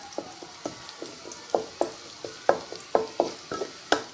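Onion and garlic sautéing in a pan for ampalaya with eggs, sharp repeated stirring clacks of a utensil against the pan over a continuous sizzle, close and fairly loud.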